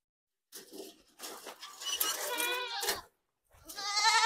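An Osmanabadi goat kid from a Beetal buck cross bleats close up, three or four loud, wavering cries with short pauses between them.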